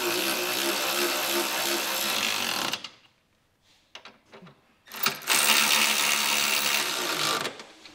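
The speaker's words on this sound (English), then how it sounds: "I'm going to go back with a 19mm socket and I'm going to tighten these down" Hitch bolts being tightened with a 19mm socket, a close, busy mechanical whirring and grinding that runs about three seconds, drops to a few faint clicks, then resumes just as loud for another few seconds.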